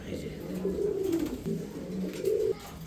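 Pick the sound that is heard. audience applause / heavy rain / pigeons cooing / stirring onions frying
pigeons cooing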